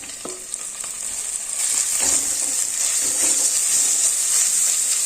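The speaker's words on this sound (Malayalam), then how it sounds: "ചട്ടിയിൽ വെളിച്ചെണ്ണ ഒഴിച്ച് കടുക് പുറത്തു ഉള്ളിയും വേപ്പിലേക്ക് ഒന്ന് മൂപ്പിച്ചെടുത്തു എന്നിട്ട് അതിലേക്ക് നമ്മൾ തേങ്ങ ചേർക്കുകയാണ്" Grated coconut added to hot coconut oil in a pan already holding mustard seeds, shallots and curry leaves, a close steady sizzle with soft stirring scrapes that grows louder after the first second or so.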